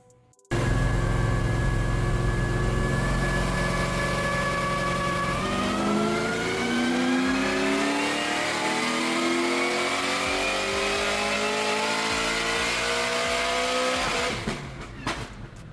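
A Corvette ZR1 with an LMT intake revs hard on a dyno, one loud sustained pull with the engine note climbing steadily for about fourteen seconds before cutting off abruptly.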